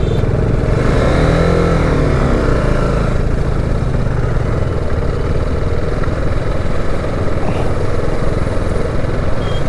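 Several motorbikes carrying a group of riders travel a busy highway toll stretch in Karnataka, with a steady, loud engine drone and rumbling wind noise running throughout, without pauses.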